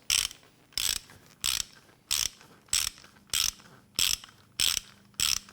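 Ratchet wrench tightening the bumper recovery point bolts on a Jeep Wrangler JL, about nine regular bursts of rapid clicking, each under a second, close and crisp with short pauses between.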